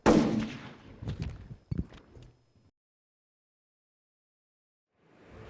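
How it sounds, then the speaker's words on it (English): A sharp gunshot cracks out in a residential tower block, followed by a few more sharp bangs and a short echoing tail before the sound stops into silence. "We just heard a gunshot in Court Towers, Lincoln Road."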